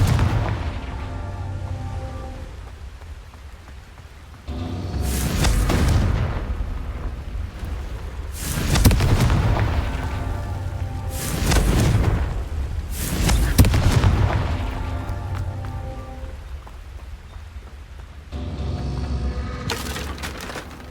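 Confringo fire spell blasts in Hogwarts Legacy boom repeatedly, roughly every few seconds, each a loud rumbling burst over a steady low-pitched game backdrop.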